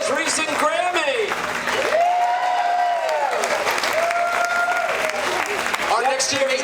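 Crowd at the California Avocado Festival applauds and cheers loudly and continuously, with whoops and shouts rising above the clapping.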